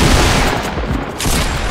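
Dense, loud burst of automatic gunfire in Fortnite, a continuous rattling stream of shots packed closely together with no pause.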